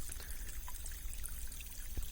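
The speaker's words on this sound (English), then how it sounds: "The subject of this video is this beautiful stream, the flow of water." A flowing natural stream runs with a steady, close wash of water, a continuous pouring and trickling rush without pauses and with no voices over it.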